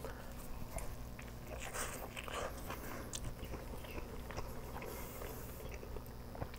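Close, quiet bites and chewing into a quesarito, with soft crunches and moist mouth sounds repeating irregularly for several seconds.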